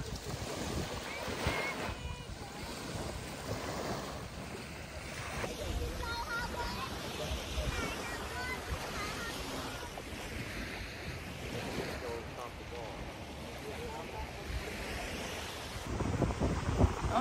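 Surf rolls in steadily on a beach in Pensacola, Florida, while strong wind buffets the microphone and people chat over the constant wash of the waves.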